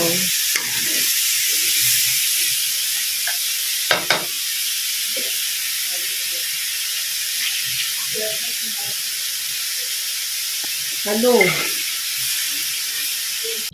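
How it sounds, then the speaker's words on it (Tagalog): Vegetables sautéing and being stirred in a pan, a steady broad sizzle with intermittent scraping and clinks of the utensil, while a voice talks at times. "Ayan na po guys, sinasangkotsa ko na po."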